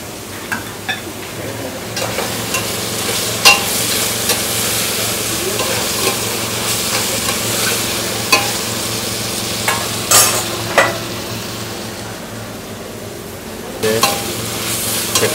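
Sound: stirring beans frying with roasted onion

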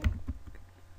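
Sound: computer keyboard typing a command

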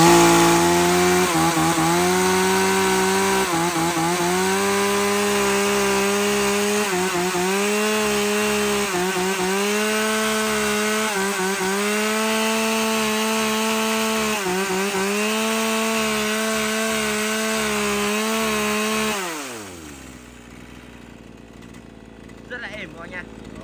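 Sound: used Japanese chainsaw running on test

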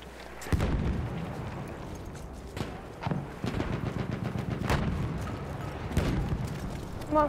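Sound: grenade explosion in the video game Battlefield 1

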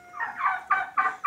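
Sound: turkeys gobbling

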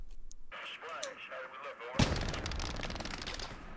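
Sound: gunfire from the video game Hell Let Loose

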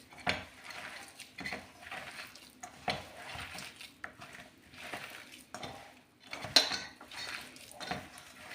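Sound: mixing gram flour batter in a bowl for pakoras

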